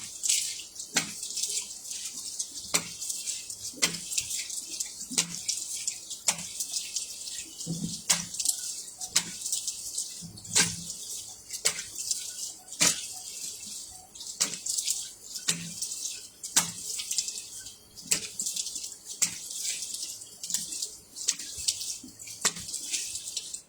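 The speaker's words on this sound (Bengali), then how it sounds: "এই যে আমি এখন ধুয়ে ফেলতেছি" Water splashes and trickles as a face is rinsed under a tap, with repeated short splashing strokes at a fairly regular rhythm over a soft steady flow, moderately quiet and close, no talk.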